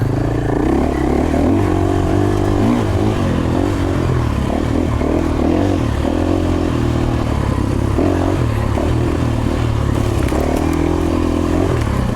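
A 2024 KTM 450XCF-W dirt bike ridden through a single-track woods section, its engine loud and continuous with revving swells and throttle changes, plus clattering and scraping from the trail.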